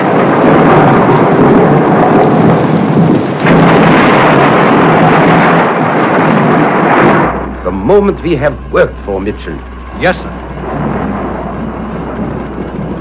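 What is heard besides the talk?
thunderstorm with heavy thunder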